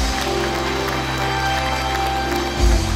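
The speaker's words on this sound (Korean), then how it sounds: "박수 부탁드립니다" Audience applause at a ceremony honoring bank regional heads on stage, a steady broadband wash of clapping from a crowd throughout, with a low rumble and slight swell near the end.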